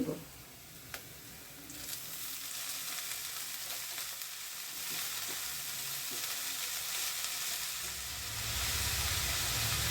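Chopped green amaranth leaves fry with onion in a hot pan, producing a loud, steady hiss and sizzle. It swells sharply just after the start and again near the end, with faint stirring underneath.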